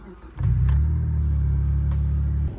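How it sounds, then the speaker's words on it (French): Mitsubishi Legnum VR4 bi-turbo estate car engine firing up, then a steady, loud, deep idle rumble that holds close by for about two seconds before dropping off at the end. "On démarre? On se met au volant de cet engin?"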